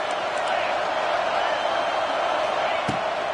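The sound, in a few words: football stadium crowd cheering for the defense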